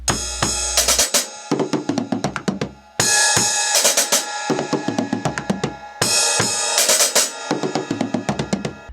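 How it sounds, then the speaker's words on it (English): Drum kit playing a song intro: a crash and kick, then hi-hat triplets and a descending tom fill landing on the floor tom, repeated three times in a steady loop with no voices. "do essentially a triplet fill of descending toms before landing on the floor tom"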